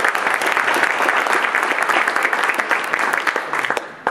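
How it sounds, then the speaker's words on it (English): Loud audience applause at a mobile developers' meetup, many hands clapping together in a dense, sustained burst that thins toward the end with a few sharper individual claps. "So I want to give a round of applause for Urban Airship."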